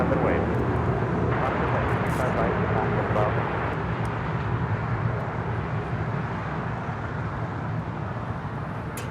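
A fixed-wing airliner rolls for takeoff on runway 25 right at LAX, its engines giving a steady, loud, broadband roar that holds for the whole stretch and eases slightly toward the end, with faint voices beneath.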